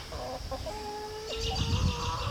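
Chickens cluck and murmur softly at a distance in a pen with pigs, with a few higher calls layered over a low background hum.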